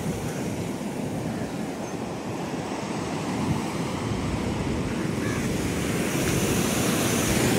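Waves roll in at Rock Beach in Pondicherry just after sunrise, a steady, full roar of surf with wind, gradually swelling louder toward the end, with no clear voices.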